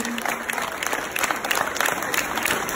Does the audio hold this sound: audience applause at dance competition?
yes